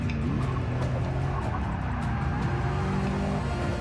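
Lamborghini Huracan racing around the Sebring circuit in Forza Motorsport 6, a steady loud engine drone with shifting pitch running continuously throughout, no speech.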